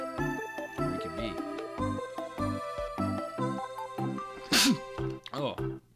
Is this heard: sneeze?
yes